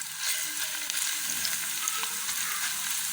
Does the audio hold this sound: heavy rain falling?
no